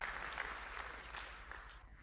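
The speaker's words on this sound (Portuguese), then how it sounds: "ele merece nossos aplausos" Steady applause from an audience honoring a retiring Canadian superintendent, a brief, even wash of many clapping hands, moderately distant and unbroken.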